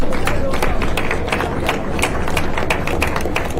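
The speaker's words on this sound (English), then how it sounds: "Can we have a big round of applause for him, please?" A big round of applause for a guest at a government session in Andhra Pradesh, with many hands clapping densely and steadily, loud and close, with faint crowd murmur beneath.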